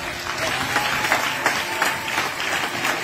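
A crowd at a church crusade in Côte d'Ivoire applauds in a sustained wash of dense clapping, moderately loud and even throughout, with a faint voice underneath.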